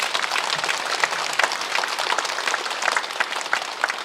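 A church congregation at a prayer meeting breaks into steady, dense applause, a continuous wash of many hands clapping with no speech on top.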